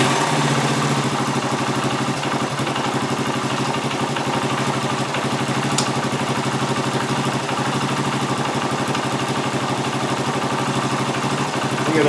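A restored Honda TL 125 motorcycle engine idles while still cold, a steady, close, even mechanical putter with a fast regular beat and light clatter, holding constant throughout.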